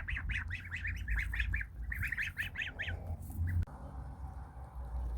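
A flock of geese honking in quick repeated bursts, loud and close, over low background rumble, then fading into quiet.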